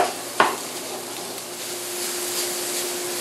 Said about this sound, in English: And we're going to cook these together for about 8 minutes until the sausage is done.